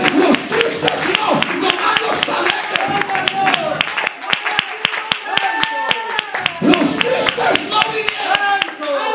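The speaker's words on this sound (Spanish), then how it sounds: "démosle a Él una ofrenda de palmas" A church congregation claps hands in praise, loud rhythmic group clapping with sharp individual claps, mixed with voices and some tonal sounds.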